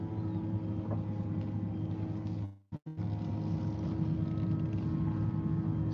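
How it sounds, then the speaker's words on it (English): AC chiller of a Rivian running hard while it charges, a steady loud mechanical hum and whir with a brief cutout midway before the drone resumes, no voices. "I don't know if you guys can hear the AC chiller"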